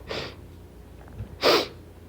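Two short, breathy bursts of nasal airflow about a second apart, close and fairly loud, like someone sniffling.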